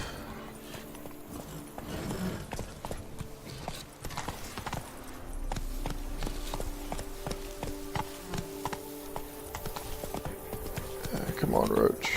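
Hooves of Roach, the horse in The Witcher 3: Blood and Wine, clip-clop at a steady galloping pace through the whole stretch. The hoofbeats are fairly close and loud, and some game sounds play along with them.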